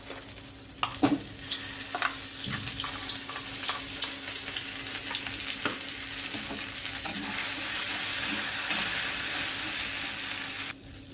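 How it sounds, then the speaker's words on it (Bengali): Mashed green pea paste fries in hot ghee in a pan, a steady close sizzle with scraping spatula strokes stirring throughout, louder toward the end before it drops off. "পেস্ট করে রাখা কড়াইশুঁটিটা দিয়ে আমি ভালো করে খুন্তি দিয়ে নেড়ে নিচ্ছি।"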